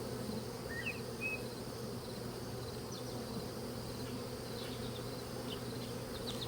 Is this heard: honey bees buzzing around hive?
yes